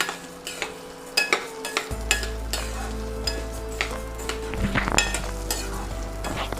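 Urad dal fries in oil for idli podi with a steady, moderate sizzle, and a spoon stirs through it with repeated clinks and scrapes against the pan.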